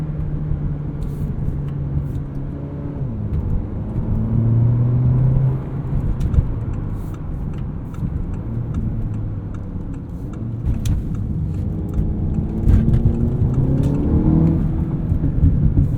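A 2016 Audi TT 2.0T quattro with S tronic dual-clutch gearbox, heard from inside the cabin, produces a steady engine drone that rises in pitch under acceleration and drops sharply at each quick gear change, repeating through several shifts.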